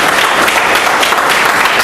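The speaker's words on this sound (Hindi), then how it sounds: "एक बार जोरदार ताली बजा दीजिए दीपाली पात्रा वाला के लिए।" Loud, sustained audience applause fills a Hindi business training session, dense clapping from a crowd running steadily without pause.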